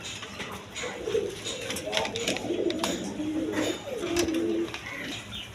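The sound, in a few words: pigeons cooing on a farm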